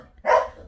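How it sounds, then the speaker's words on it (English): A single short, sharp dog bark close to the microphone, breaking out of near-quiet and fading within half a second. "I tried to spare you the dogs barking."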